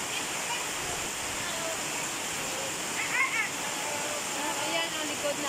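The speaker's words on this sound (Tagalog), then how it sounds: "Grabe talaga ang lakas ng ulan." Heavy, steady rain from Typhoon Rolly pours outdoors at a home as a constant dense hiss and splashing wash, loud and unbroken throughout.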